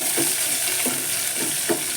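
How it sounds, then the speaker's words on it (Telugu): Chopped onion frying in hot tempering oil for dal, a soft steady sizzle with a few stirring scrapes, heard up close without talk. "ఇప్పుడు వచ్చేసి ఉల్లిపాయ కాస్త వేగాలి."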